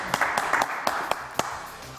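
A studio audience claps for the assistant Alexis on a French TV news-comedy show, a brief scattered patter of hands that stays moderate and fairly close, with no voices over it.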